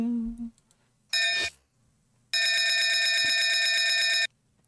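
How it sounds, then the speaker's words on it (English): Bright electronic ringing of a bell in a Peppa Pig cartoon, rung to summon a boat: a short burst, a pause, then a longer sustained ring, with a brief voice at the very start. "You call it by ringing this bell."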